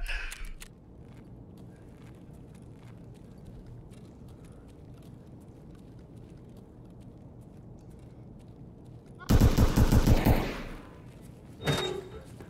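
Unsuppressed 5.7 fire, likely from a P90, in Escape From Tarkov: after a long quiet stretch comes a loud, rapid automatic burst of about a second, then a second, shorter burst.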